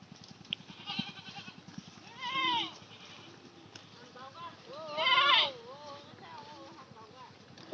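A young calf, soaked in the rain and feverish, gives two drawn-out bleats a few seconds apart, close by, over a soft rhythmic background.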